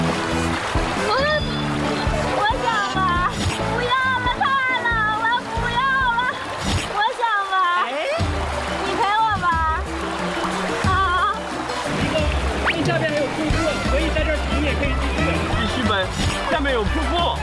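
River rafting near a waterfall, with water splashing and rushing continuously beneath loud, excited shouting and screaming from several people close by.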